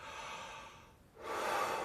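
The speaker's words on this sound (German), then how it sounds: "Ich nehme jetzt mal dieses Zwischenstück vom Kugelschreiber und ich atme ein." Inhaling through the hollow middle tube of a ballpoint pen as a trumpet breathing exercise, one long airy rush of breath that fades, then a brief pause and a louder, close hiss of air.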